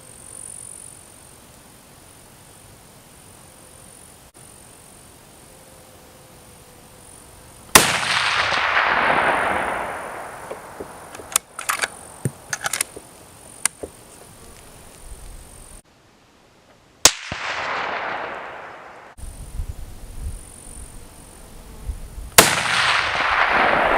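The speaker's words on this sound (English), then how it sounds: "Shot one. We're just going to do 3 shots today since that's what this magazine holds." Three loud rifle shots from .308 Winchester handloads fired at a 200-yard range, each a sharp crack with a long rolling echo, spaced several seconds apart over faint outdoor background, with brief clicks between shots.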